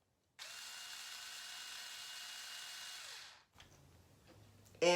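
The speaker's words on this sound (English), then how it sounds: "This slides over the handle and a power screwdriver fits" A power screwdriver drives the handle of a Sentro 48-needle plastic knitting machine, a steady close whir holding level for about three seconds before winding down, followed by faint handling clatter.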